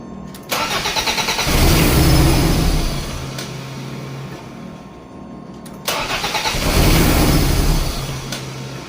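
A Toyota MR2 engine runs right after an idle adjustment, a steady mid-pitched drone that swells twice as the throttle is blipped, then settles back to a rougher idle, close and loud with no talking.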